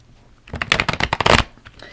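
A brisk riffle of tarot cards in a hard shuffle, a dense burst of crisp snapping flutters lasting about a second, close and fairly loud.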